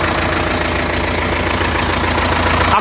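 A 2001 Kia Carnival engine idling, a loud, steady rumble with a regular low knocking pulse running unbroken and close-up, with no voices over it.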